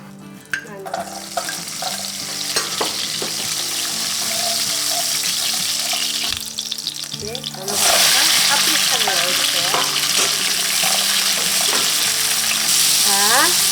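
Hot oil frying for a spicy-sweet pumpkin curry, a steady sizzle that runs throughout and grows louder and denser about halfway through, with occasional stirring clatter over it.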